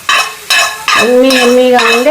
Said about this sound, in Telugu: పోపు పెట్టేసుకుంటే